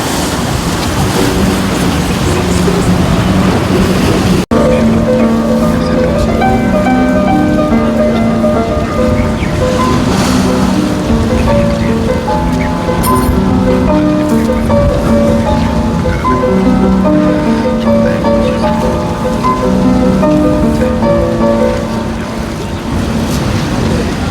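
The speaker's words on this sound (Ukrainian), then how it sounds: "Море хвилюється." Rough sea waves surge against the Odesa shore on a Saturday morning, a loud continuous roar of surf and wind. A steady droning hum runs underneath for most of the stretch.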